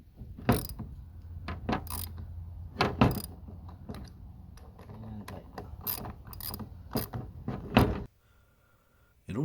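A wrench ratchets as it turns to tighten the tension on a chainsaw chain, giving a series of sharp clicking and grinding bursts at an uneven rhythm, close and fairly loud, ending in near silence.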